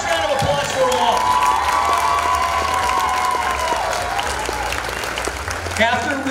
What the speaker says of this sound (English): One last round of applause for them all.